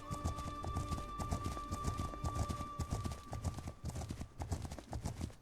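A horse's hooves clip-clop steadily at a walking pace in a steppe-riding video game, a close, even rhythm over a quiet background with a faint game tone.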